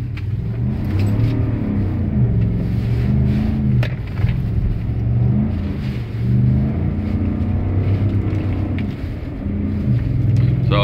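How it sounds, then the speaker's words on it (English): Truck on Comforser 3000 tires making a four-wheel launch on snow, a loud near engine droning and rising through several revving surges over about ten seconds, with no talking. "let's check out a four-wheel launch"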